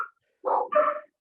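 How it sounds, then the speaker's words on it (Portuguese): Two female dogs at home bark in a pair of short startled bursts, loud and close, after a moment of quiet and with no talk over them. "As minhas cadelas assustaram."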